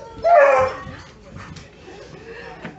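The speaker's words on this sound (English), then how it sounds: "Puppies!" Puppies give a short burst of high yips and whimpers up close, then fall to faint fussing while a person talks.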